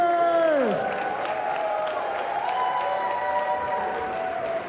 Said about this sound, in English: One more round of applause for the Iñu-Yupiaq Dancers!